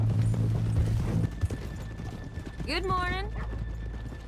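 Horse hooves clip-clop on a town street in the Western video game Red Dead Redemption 2, then a horse whinnies loudly; someone briefly speaks a greeting over the steady hoofbeats.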